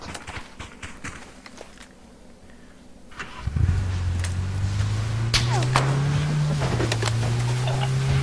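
Car in a snowy winter map of the PUBG Battlegrounds video game starting up and driving off, a steady engine drone rising in pitch as it pulls away after quieter footsteps and rustling, loud and continuous.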